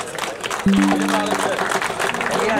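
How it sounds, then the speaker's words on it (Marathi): Outdoor crowd applause at a red-soil wrestling tournament, busy clapping and crowd noise with a loudspeaker tone and voices mixed in, fairly loud throughout. "एका सगळ्यांनी जोरदार टाळ्या झाल्या पाहिजेत"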